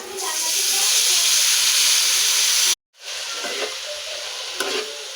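Potatoes tipped into a hot pan with bitter gourd, onion, salt and turmeric, a loud close sizzle cut off by a brief gap, then resuming more quietly with stirring scrapes.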